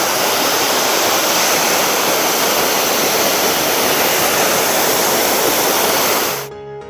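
Ramsey Falls, a 30-foot waterfall in Ramsey Park, Minnesota, pouring as a loud, steady broadband rush heard up close and alone, cutting off abruptly at the end.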